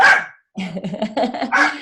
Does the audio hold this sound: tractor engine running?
no